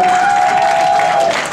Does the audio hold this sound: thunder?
no